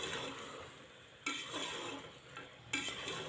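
Mutton with ginger being stir-fried in oil for a spicy khada masala gosht, a steady sizzle with scraping stirs and two sharper clatters of the spoon against the pot.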